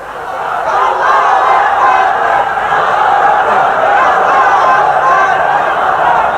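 A large crowd roars the slogan Nara-e-Takbir in unison at a religious rally, a loud, sustained mass of voices with no clear breaks that swells in and holds steady.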